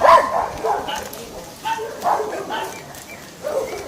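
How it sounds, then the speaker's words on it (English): A dog barking among historic ruins, several short yipping barks spaced irregularly over a few seconds, fairly close and prominent, with some voice-like sounds mixed in. "watch the dog"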